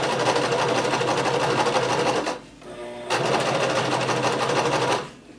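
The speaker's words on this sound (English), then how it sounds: "go ahead and lower your needle, begin sewing and back stitch, and keep sewing until you get to the last dot" Sewing machine stitching the front slit of a shirt, a loud, close, continuous rapid whir that stops briefly, then resumes and runs on before stopping again.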